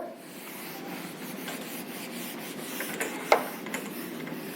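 An eraser rubs across a classroom board in soft, steady scrubbing strokes, faint and close, with a sharper tap or knock near the end and no talking.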